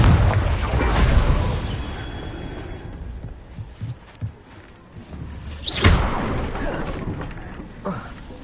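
A Confringo blasting spell explodes in Hogwarts Legacy on PS5. It comes as a heavy boom followed by scattered thuds, then a second sharp whooshing blast, with fainter pops after it and voices in the background.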